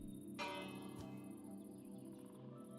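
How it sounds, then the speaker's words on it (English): Village bell in Minecraft struck with a bright metallic clang that rings on, heard over a steady background of insect-like chirping and ambient game sounds. "What happens if I ring this bell?"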